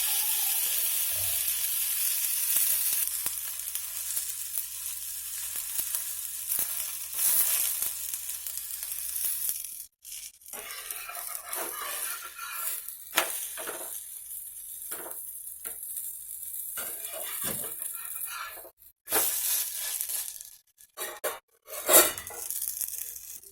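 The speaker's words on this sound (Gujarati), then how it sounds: "હવે તેને પલટાવીને બીજી તરફ પણ શેકવા દઈશું।" A wheat flour pudla flipped and roasting on a pan, a steady soft sizzle that later breaks into scraping and clattering as it is turned, close and moderately quiet.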